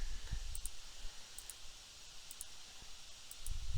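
A computer mouse clicks in pairs at a steady pace, four crisp double-clicks spaced about a second apart, close and quiet over faint background rustle.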